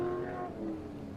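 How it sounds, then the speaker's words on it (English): An off-road race truck with wrapped headers revs hard at the Mint 400 desert race, giving a loud, sustained, high-pitched howling engine note that fades slightly over about a second. "Did they just wrap the headers differently for it to get such a banshee type sound"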